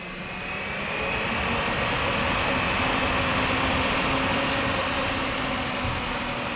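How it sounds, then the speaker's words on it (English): An electric fan from a 1997 Honda Shadow VT600C VLX motorcycle runs on a bench power supply, spinning up over the first second into a steady, loud whir with a faint tonal hum, alone without talk. "So I got a fan hooked up to my bench power supply,"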